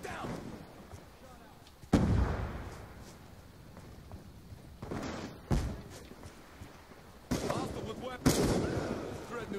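Call of Duty Black Ops 2 gunfire: several sharp, loud shots spaced a few seconds apart, each with a booming tail, over quieter game ambience and someone talking.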